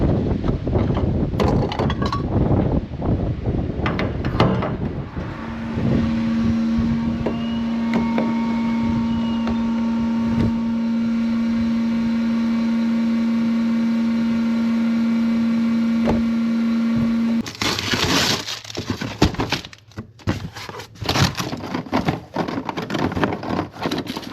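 Diesel work truck heading to a hayfield, an engine rumble with clunks and rattles, then a long steady tone partway through before louder bumping, creaking noises take over at the end.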